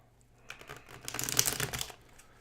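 A deck of tarot cards being shuffled by hand, one quick riffling, crinkling pass lasting about a second and a half, close and fairly quiet with no talking.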